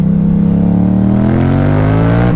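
A Yamaha MT-07 motorcycle engine pulls loudly and steadily upward in pitch as it accelerates, close and continuous, a smooth rising drone with no talking over it.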